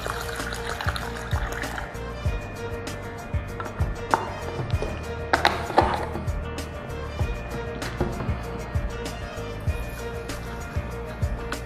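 Rice being washed with Strong Kangen water: faint, intermittent trickling and splashing with small clinks of grains and container, quiet throughout with no talking.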